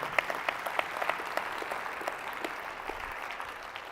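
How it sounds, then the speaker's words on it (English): Keynote audience applause at an insurance-sales conference, a crowd clapping steadily with sharp individual claps standing out early, moderately distant and unaccompanied by talk, tapering slightly toward the end. "If one claps, we all clap."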